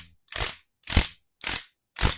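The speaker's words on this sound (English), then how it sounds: "Some people call this a clatterpillar." A clatterpillar percussion instrument shaken in four separate bursts about half a second apart, each a loud, bright rattling clatter that swells and cuts off, with silence between.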